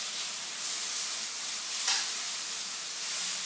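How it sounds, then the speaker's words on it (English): Chicken and mixed vegetables for stir fry noodles sizzle steadily in a hot wok, a close, continuous frying hiss with a brief flare of steam partway through and no talk. "So that's why it's called stir fry, because we're doing this literally,"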